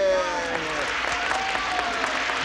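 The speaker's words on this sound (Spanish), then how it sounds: "¡El aplauso fuerte!" Audience applause for a prize winner at a dance marathon, steady clapping mixed with music tones and some voices over it.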